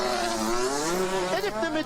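A Formula 1 car engine, Fernando Alonso's car at the 2022 Mexico Grand Prix practice session, revs high and loud in a steady rising whine, with a commentator talking over it.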